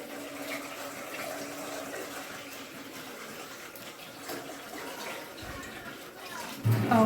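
Water runs into a cooking pot of stew on the stove, a soft, continuous pouring trickle heard quietly and fairly close, with a slightly louder splash near the end.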